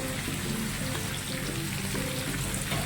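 Chicken leg pieces fry in hot oil with a steady, dense crackling sizzle that stays even throughout, close by and without talk.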